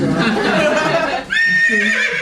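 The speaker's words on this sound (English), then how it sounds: "The horse of truth just came out, everybody." A horse neigh sound effect played during a live comedy podcast: loud voices fill the first second, then after a brief dip a single shrill, wavering whinny rings out clearly to the end.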